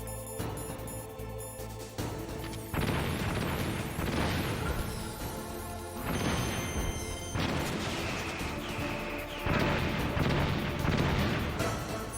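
Enemy gunfire in Metal Gear Solid on the PS1, heavy bursts of shooting and booming impacts in long loud stretches, broken by brief quieter gaps, over game music.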